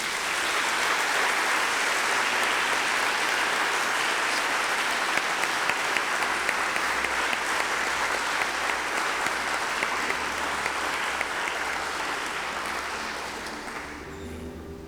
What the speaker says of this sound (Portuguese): Se você recebe, dê um forte aplauso a Ele.